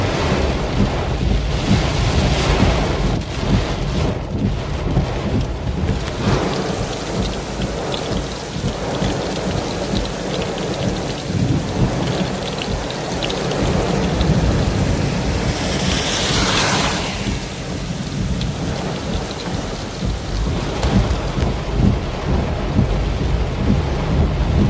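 Heavy rain and strong wind in a thunderstorm while storm chasing, a loud continuous roar of downpour and gusts battering close by, with low rumbles running underneath throughout.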